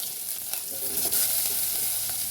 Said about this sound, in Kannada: ಜೀರಿಗೆ ಹಾಕ್ ಸಾಸಿವೆ ಹಾಕ್ಕೋತಾ ಇದ್ದೀನಿ ಜೀರಿಗೆ ಮತ್ತು ಈರುಳ್ಳಿ